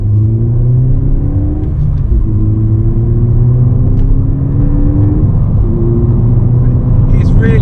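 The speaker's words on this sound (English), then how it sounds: "I'll insert a few clips now of the gear changes." Modified Ford Fiesta ST180 engine pulling through gear changes from inside the car, a loud droning hum that climbs in pitch, dips briefly at each shift and climbs again, several times over.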